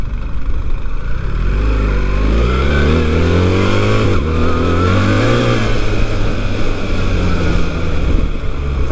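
A BMW 1300 GS Enduro motorcycle accelerates hard, its engine note climbing loudly through rising revs with a brief dip at a gear change, close and dominant with no talk.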